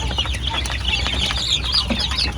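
Large farm chickens cluck and murmur in a pen, a steady chorus of overlapping clucks and soft calls over a constant background hum, moderately loud and close, with no talk.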